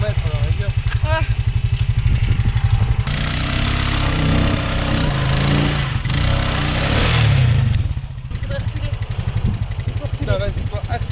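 A stuck quad bike's engine runs loud and close, idling with a rough pulse and then revving harder for several seconds before easing back, while people talk over it.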